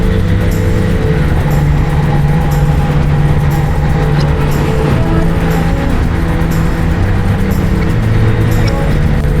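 A 2024 Suzuki GSX-R1000 sportbike cruising on a highway, a steady loud engine drone with heavy wind rush, constant and close, with no talking.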